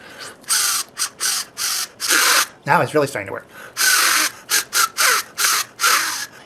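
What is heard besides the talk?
homemade paper reed instrument being blown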